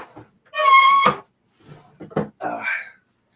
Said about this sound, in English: You're going to hear my big old foghorn blowing my nose.